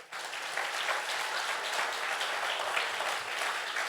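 A church congregation applauds in a French-language service, a steady, full wash of clapping from many hands that continues evenly throughout without talk over it.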